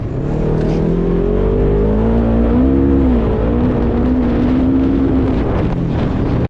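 A Polaris RS1 UTV pulling away at night, its engine a loud, steady drone that rises and falls slightly in pitch as it revs, with wind noise buffeting the microphone and no voices.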